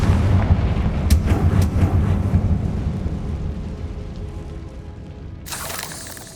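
In the Hogwarts Legacy video game, a Confringo fire spell bursts with deep, rumbling explosive booms and crackling impacts that fade out, followed by a sharp burst of noise near the end.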